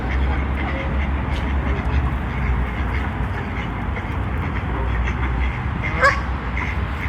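Ducks quack at a pond, with a few scattered calls over a constant low outdoor rumble and one sharper call near the end.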